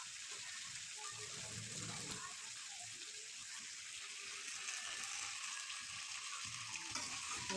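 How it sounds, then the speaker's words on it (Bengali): Chicken pieces coated with turmeric, chili powder, coriander-cumin powder and salt are stirred as they fry in a pan, giving a faint, even hiss and soft shuffling with no clear pauses. "মাংসগুলো হওয়া পর্যন্ত নাড়াচাড়া করবো।"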